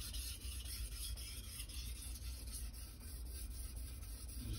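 A Santoku knife is sharpened freehand on a Chosera/Naniwa whetstone, giving a faint, steady scraping and rasping that continues throughout with soft, repeated strokes.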